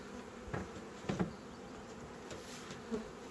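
A swarm of honey bees buzzing around a hive, a steady close drone with a few louder passes as individual bees fly near, alone without talk.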